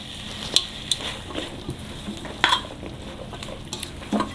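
Cabbage sautés in a pan for a stew, a soft sizzle running beneath intermittent sharp scrapes and clinks of a utensil stirring against the pan.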